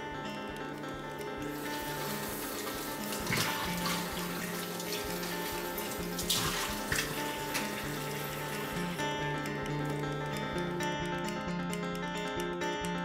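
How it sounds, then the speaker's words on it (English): Recyclable containers rinsed under a running tap, a steady broadband rush of water pouring into a sink with shifting splashes and clatter, close and continuous throughout with no talking. "Make sure you clean and rinse out any recyclables that contain waste."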